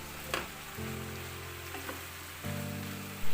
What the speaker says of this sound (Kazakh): Қияр мен көк пияздарымызды да қуырып аламыз.